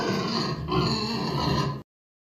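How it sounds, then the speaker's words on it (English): A pig oinks and grunts in a dense, continuous run of rough snorting calls lasting about two seconds, loud and close, with no other sounds. "The pig says oink,"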